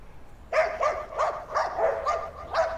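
A dog barks repeatedly in woodland on the outskirts of Prague, a run of about six sharp, fairly close barks in a steady rhythm with no talking.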